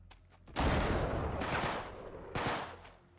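Gunfire in the video game Uncharted 3 comes as loud, dense bursts of rapid shots, a long volley followed by a shorter second one about two seconds later, each ending in a noisy tail.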